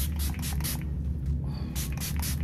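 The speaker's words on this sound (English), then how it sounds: "Just spray, Revolution, Base Fix, Super Holding Spray." Short hissing bursts of an aerosol makeup setting spray, several quick pumps in a row, close to the microphone with no talking.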